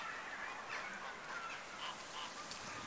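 Geese or ducks honk and call repeatedly at Caerphilly Castle, a run of moderately close, nasal calls over a steady outdoor hiss.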